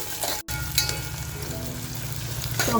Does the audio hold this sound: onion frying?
yes